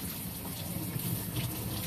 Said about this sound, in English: We're just running water, right?